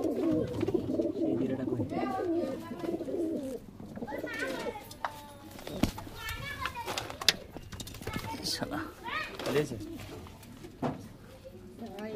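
Pigeons coo repeatedly inside a loft of desi pigeons, soft low calls recurring under frequent nearby talk, with occasional clicks and knocks.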